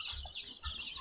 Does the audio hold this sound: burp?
no